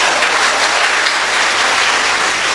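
A church congregation claps during a worship service, producing loud, dense, continuous applause with no talk over it.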